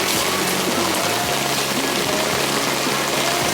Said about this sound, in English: the rain is getting a little crazier